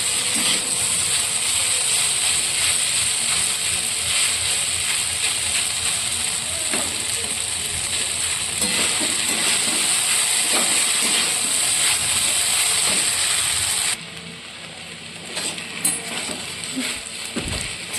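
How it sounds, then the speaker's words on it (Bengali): Sago pulao fries hard over a high gas flame in a kadai, making a loud, continuous steamy hiss with scattered scraping clicks; the roar drops abruptly near the end to a quieter sizzle with a few taps. "এই সময় গ্যাসের ফ্লেমটা জোরে রাখতে হবে, জোরে রেখে খুব ভালো করে এটা ভেজে নিতে হবে"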